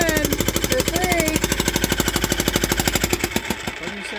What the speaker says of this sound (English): And you try to jackhammer all the mortar so that it's easier